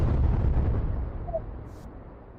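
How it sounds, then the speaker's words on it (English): An explosion sound effect booms low and heavy at the start, its rumbling tail fading gradually over about two seconds with nothing else heard. "You deserve an explosion, brother."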